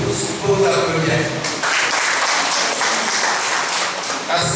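Applause from attendees at a meeting, building after a second and a half into a dense, loud, sustained clapping that continues steadily to the end, with talk heard underneath.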